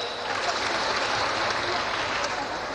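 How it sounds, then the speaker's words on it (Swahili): Sustained applause from a crowd honouring a pilot, Joanita Bomani, at a public event, a dense, even wash of clapping lasting the whole stretch with a voice faintly underneath. "Makofi mengi tena"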